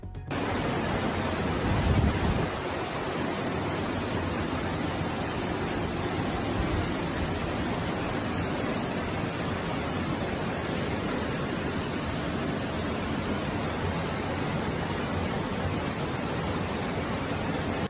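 Flood water surges through Bulgarian resorts as a dense, continuous roar of rushing water, loud and unbroken throughout with a windy, noisy texture and no voices.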